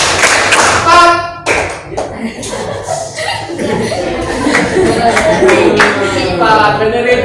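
Classroom pupils clap in a counted clapping game, sharp claps landing in short numbered bursts with uneven gaps, while chuckles and quiet chatter from the class run between them.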